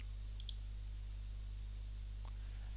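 A double mouse click on an insert button, two quick faint clicks close together over a steady electrical hum, followed later by a single softer tick.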